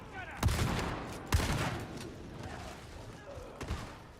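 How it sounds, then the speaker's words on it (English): Impact grenade explosions in the Darktide video game, two sharp close blasts about a second apart followed by a third softer burst, each with a short rumbling tail over quieter game noise. "I must say, I like these impact grenades."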